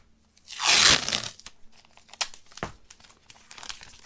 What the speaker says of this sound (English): I'm just going to come down across with the masking tape